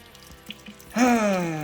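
Water gushes and splashes out of a flooded Harley motorcycle after its bolts are removed, starting suddenly partway in as a loud, steady draining stream.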